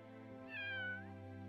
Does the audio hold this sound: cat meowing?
yes